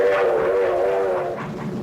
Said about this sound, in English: Full trains were assembled on the spot, loaded with freight and sped forward.